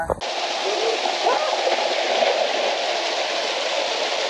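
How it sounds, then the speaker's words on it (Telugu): The Green Waterfall near Aluru Kona temple in Anantapur pours with a loud, steady, full-bodied rush that does not let up. "green water fall"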